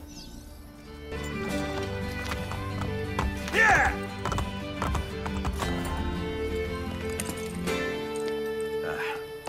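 Horse hooves clip-clopping at a gallop in Assassin's Creed Brotherhood, with a sharp neigh partway through, set against steady musical score; someone briefly shouts.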